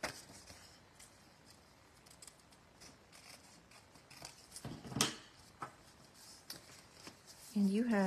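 Scissors snip and slide through patterned paper while trimming around an envelope flap's edge, quiet crisp cuts in an irregular rhythm, with a louder rustle of handled paper near the end.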